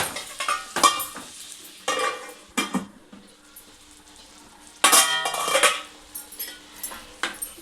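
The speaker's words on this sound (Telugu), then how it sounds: "ఒక్క నిమిషం మూత పెడదాం" Metal pots, pans and cutlery clatter in a home kitchen while korameenu fish curry cooks Telangana style, with a lid set on the pan; several loud bursts of clanking and scraping come in clusters between quieter gaps, with no talking.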